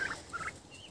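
Young turkeys gobble in short bursts in a sunny farmyard, a couple of warbling calls close by with a brief higher note at the end.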